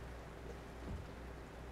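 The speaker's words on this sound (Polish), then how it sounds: "deszcz pada mi w grze" Steady rain falling both outdoors and in Euro Truck Simulator 2, a continuous soft hiss with a faint low rumble rising briefly near the end, no voices.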